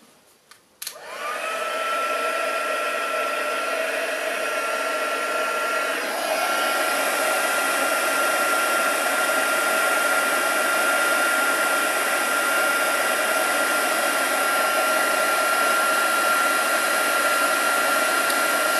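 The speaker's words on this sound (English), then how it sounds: "Right, heat gun, let's heat that up." A heat gun blasts hot air over a candle craft project, a loud steady roar starting abruptly and holding constant throughout with a slight shift in tone partway through.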